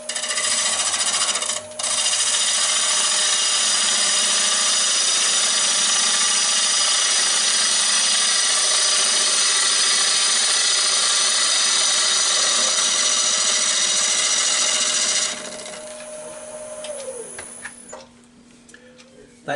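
Spalted hackberry end grain cut on a wood lathe with the gouge riding the bevel, a steady loud hiss and whir of the spinning workpiece for about fifteen seconds, then the cut stops and the motor winds down with a fading tone.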